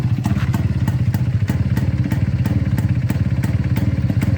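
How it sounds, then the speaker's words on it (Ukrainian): A restored IZh-49 vintage motorcycle engine idles loudly outdoors with a steady, rapid exhaust putter and regular sharp pops, close by and continuous throughout. "Звук вихлопу просто затамовує подих"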